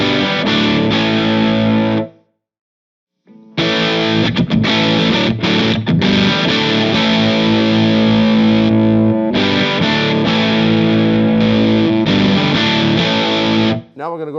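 Heavily overdriven electric guitar chords through a Walrus Audio Plainsman pedal and Vox AC15 amp, without EQ, ring out loud and sustained, broken by a brief silence early on, then continuing in long distorted strums.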